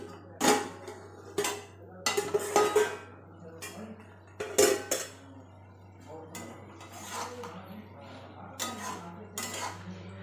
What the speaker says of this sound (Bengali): ঢাকাটা খুলে দেখি।